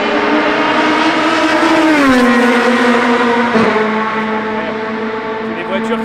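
Rebellion R13 LMP1 race car at speed, a loud sustained engine roar whose pitch sweeps downward as it passes close by, then settles into a steadier droning tone as it recedes.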